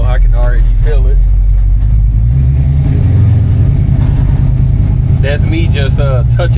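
A 1951 Chevrolet 3100 truck engine idles loudly and rises into a brief rev as the pedal is lightly touched, a deep close rumble with someone talking over it at the start and end.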